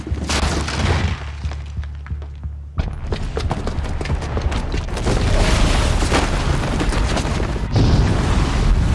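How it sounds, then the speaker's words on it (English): A bomb blast set off by a booby trap in the video game Horizon Zero Dawn: a heavy low boom with rumbling debris and crackling bursts that builds into a dense, loud roar through the middle and end, with no talking. "the booby trap on the bomb downstairs is gonna get set off"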